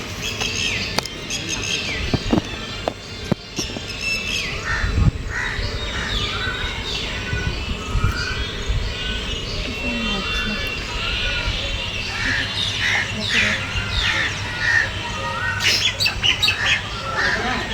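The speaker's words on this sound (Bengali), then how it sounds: "এত সুন্দর ময়ূর ডাকছে, পাখি ডাকছে" Peacocks and other birds calling in a forest: repeated loud squawks and caws with scattered chirps, some near and some distant, while a person talks over them.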